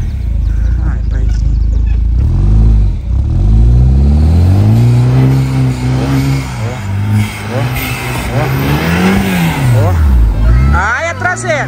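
A car engine revs up and down repeatedly at close range, the pitch swooping high and falling back in long loud sweeps while a voice speaks over it.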